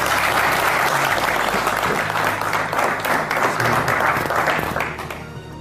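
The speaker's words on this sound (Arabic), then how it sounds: "تصفيق" A studio audience on a television show applauds loudly and continuously, a thick wash of many hands clapping with a low hum underneath, and it fades slightly at the end.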